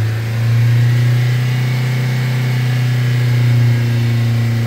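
A Vauxhall Vivaro van engine held at about 3000 RPM during oil pressure checks, a loud steady mid-pitched drone close by with a strong low hum and little variation, no talking.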